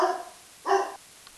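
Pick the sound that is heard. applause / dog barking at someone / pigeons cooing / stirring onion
dog barking at someone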